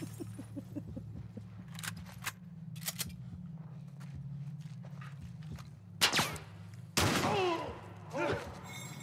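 Sharp, broadband gunshots from The Last of Us Part I crack out a few times, spaced irregularly over a low droning game ambience, with a couple of louder blasts near the end.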